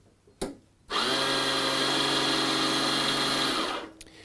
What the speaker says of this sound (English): Well, the starter motor activated.